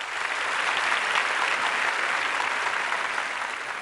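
Steady, sustained applause from a debate audience at a Tamil pattimandram, a dense even wash of clapping hands that holds for several seconds with no talk over it.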